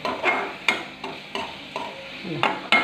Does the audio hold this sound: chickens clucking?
no